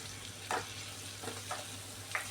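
Masala potatoes frying in a pan, stirred with a spoon: a soft, low sizzle runs throughout, broken by a few faint scraping strokes spaced unevenly across the stretch.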